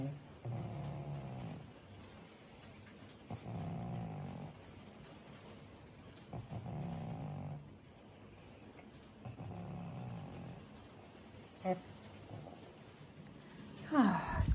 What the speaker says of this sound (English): listening to the rain and the pug snoring